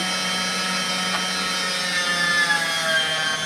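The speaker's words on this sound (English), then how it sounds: "I'm going to show you how you grind it. So it's going to be noisy here for a second." An electric meat grinder runs steadily on cubes of roast beef, giving a close, continuous whirring mechanical drone with a faint shifting whine.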